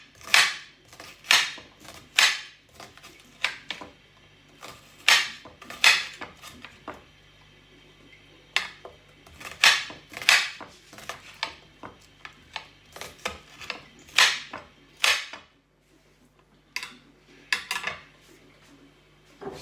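A knife chops onions on a board with a string of sharp, close taps in uneven bursts, separated by brief pauses, and there is no talking.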